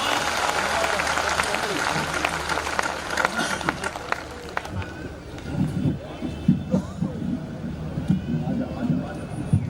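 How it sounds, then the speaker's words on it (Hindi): Audience at a Hindi poetry gathering (kavi sammelan) claps to open the event: dense, crackling applause, loud and close at first, then thinning into scattered claps, with voices mixed in. "दोनों हाथ आकाश में उठाकर जोरदार तालियों के साथ आपके कवि सम्मेलन का आरंभ"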